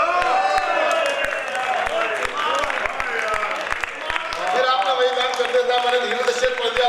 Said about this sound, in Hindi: आपने धीरे से ताली बजाई